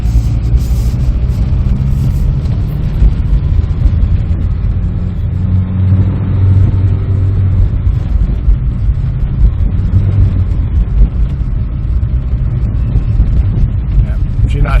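A 1992 Saab Turbo that has sat in a tree row, with a transmission refusing to shift, revs its engine at a steady mid-pitched drone while being turned around, close by, with people talking over it.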